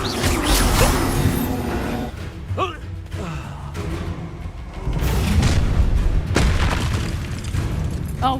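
Spell blasts and booming impacts from combat in the Hogwarts Legacy video game, several loud thumps and bursts in quick succession over a dense layer of game effects, with character voices shouting in between.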